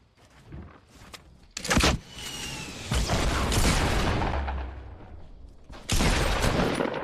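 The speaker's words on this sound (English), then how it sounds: "with like the way rockets work now, they're a lot better" Rocket launcher explosions in the Fortnite video game: a few loud, booming blasts with crackling, noisy tails, one sharp hit early on and a long rumbling burst mid-clip, separated by quieter stretches.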